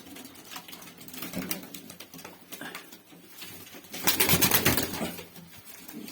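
Pigeons, paired Turkish performing birds, coo and flutter nearby in a loft, with soft murmuring calls and a louder burst of rustling wings midway, no talk.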